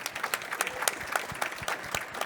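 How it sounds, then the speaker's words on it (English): An audience at a farming foundation event claps steadily in a sustained, moderately loud burst of applause with dense overlapping hand claps and no talking. "Let's give Ethan a round of applause, please."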